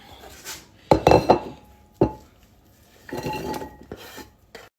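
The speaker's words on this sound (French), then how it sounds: "Je vais mettre mes oignons là-dedans." Onions are tipped into a cooking pot for chicken pastilla, giving sharp clanks of utensil on metal, then a scraping, rustling stir, close and moderately loud, with no talk.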